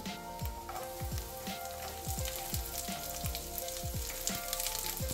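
Garlic dropped into hot oil with already-fried chillies, a dense, loud, continuous sizzle and crackle with steady popping throughout, no voices.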